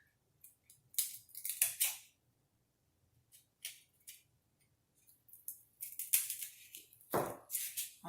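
A styrofoam flower craft piece is trimmed in short, crisp snipping bursts, close and fairly quiet, separated by brief silences.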